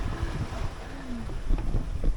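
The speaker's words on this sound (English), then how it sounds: "Lovely downwind sailing." A sailboat runs downwind through rolling waves off the Pacific coast of Baja, with steady wind and rushing water washing past the hull, low buffeting gusts and brief splashes, and no talk.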